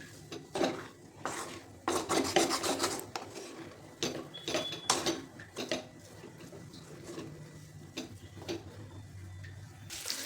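A spoon clatters and scrapes against a pan as a moong dal halwa mixture with ghee is stirred and roasted, giving intermittent close metallic clinks and scrapes at an irregular rhythm.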